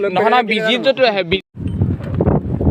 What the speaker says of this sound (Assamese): ইমানেই বতাহ মাৰি আছে পাহাৰৰ কাষ পাই গ'লোহি